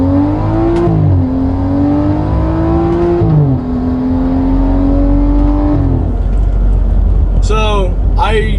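A 2011 BMW 535i with a JB4 tune and full bolt-ons pulls hard in a 20 roll, its engine note climbing steadily through the gears with brief dips at the shifts, loud and close, with a voice chiming in near the end.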